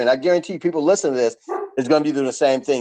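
Dogs bark and yip in the background while a person talks continuously over them, the barking partly masked by the voice.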